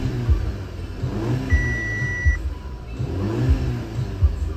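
A 2011 Audi A5 2.0-liter turbo engine with all-wheel drive and automatic gearbox revs close by in repeated throttle blips, each rising and falling over a steady idle, with a brief electronic beep in the middle.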